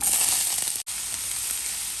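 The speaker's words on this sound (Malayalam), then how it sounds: "ഒരു രണ്ട് സവോള മീഡിയം സൈസ്ഡ് സവോളയും ഇച്ചിരി കറിവേപ്പിലയും ഒരു നാല് പച്ചമുളകും കൂടെ നുറുക്കി വെച്ചിട്ടുണ്ട് അതിട്ട് കൊടുക്കുവാണ്" Two medium sliced onions, curry leaves and four green chillies fry in hot oil in a pan, giving a steady, close, loud sizzle that cuts out for a split second partway through before carrying on.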